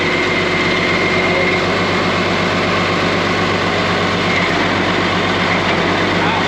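Case 5230 tractor engine running steadily as the tractor drives and its drive engages, a loud, continuous low rumble throughout, with faint voices in the background.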